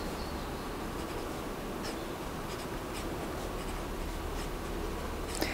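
A pen scratching steadily across paper while writing out the addition rule for a probability problem, close and continuous, with faint scattered taps and no talking.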